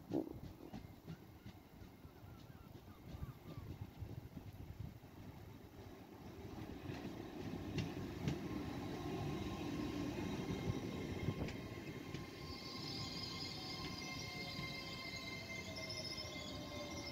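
A train passes through Pilning railway station, a steady broad rumble and rail noise building over several seconds and holding loud, with high squealing or hissing tones near the end and no talk.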